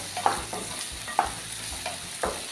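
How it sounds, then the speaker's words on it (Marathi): Onion and tomato stir-fried in a pan, a steady sizzle with three distinct spatula strokes clacking against the metal at roughly one-second intervals. "एक दोन मिनटांसाठी आपण हे परतवून घेऊया"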